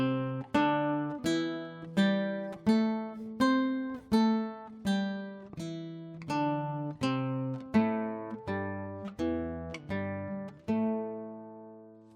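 A natural minor scale in Malian style played slowly in octaves on a plucked string instrument, each note ringing with a sharp attack and decay, a steady run of about a dozen notes rising and falling with nothing else heard.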